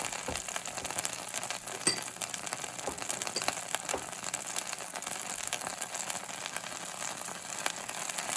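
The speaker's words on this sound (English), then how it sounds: "Let's saute that up a little bit" Chilies sauté in a pan for spicy numbing eelpout, a faint continuous crackling sizzle dotted with small clinks and scrapes of the pan.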